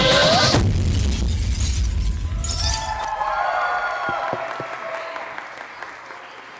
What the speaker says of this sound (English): Can we just have another round of applause for Aneesh's family and Maitri's friends?